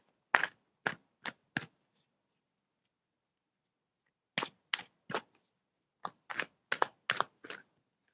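Brisk riffling bursts of playing cards being shuffled, a quick group of four, a pause, then two more rapid flurries, close and crisp.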